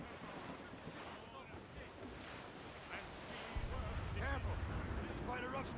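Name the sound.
strong wind and waves at sea in Assassin's Creed Rogue video game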